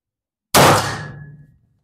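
A single loud shot from a Colt 1860 .44 black powder revolver (Uberti) fired at a 25 m range: a sharp, close blast followed by a ringing decay of about a second.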